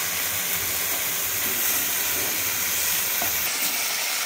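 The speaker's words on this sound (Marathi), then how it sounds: "तर आता ही पालक आपण छान आता परतून घेणार आहे" Washed, chopped spinach sautés in hot oil with a steady, close sizzle and soft stirring that runs on evenly, with no voices.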